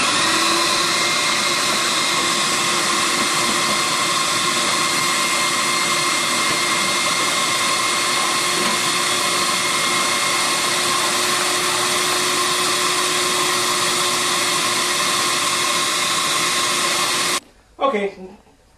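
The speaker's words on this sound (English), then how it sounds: "we prefer to use a wet vac to do it. We're ready to turn the vacuum on" A loud wet vac vacuuming a bathroom floor roars steadily and continuously, then cuts off abruptly near the end, leaving a brief moment of quiet.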